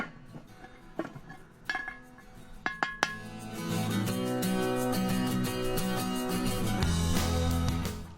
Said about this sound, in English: Bung that lid on, give them around about 10-12 minutes in a nice hot oven